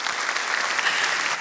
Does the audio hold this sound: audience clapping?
yes